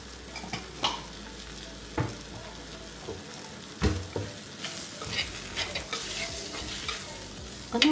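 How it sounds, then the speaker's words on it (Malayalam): Sliced onion and coriander powder sauté in a hot pan, sizzling continuously as a spoon stirs and scrapes in repeated clanks and swishes, close up with no voices. "ഒന്ന് വഴറ്റി കൊടുക്കാം."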